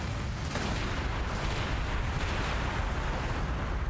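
Missiles launch in the Warhammer 40,000: Gladius strategy game during an Imperial Guard battle, a dense, continuous booming rumble of artillery-like fire with no voices over it.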